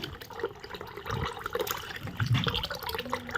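Tap water pours and splashes into a pot of rice set to soak, a quiet, close trickle with gurgling that swells toward the end; no talking.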